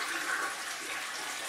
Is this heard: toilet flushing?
yes